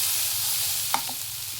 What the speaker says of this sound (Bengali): ইলিশ মাছ দিয়ে, বাড়ি পটল দিয়ে, আলু দিয়ে, মিষ্টি কুমড়া দিয়ে ভেজে নিলাম।